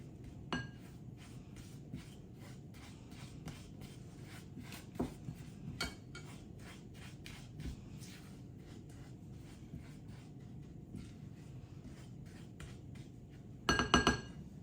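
Sugar and lemon zest being stirred in a bowl for a soaked lemon cake, with repeated light clinks and scrapes of a utensil against the bowl, faint and steady, with a louder clatter near the end.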